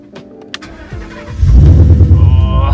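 An old SN95 Ford Mustang cranks and fires up, the starter whirring briefly before the engine catches and settles into a loud, steady low rumble that fills the rest of the moment.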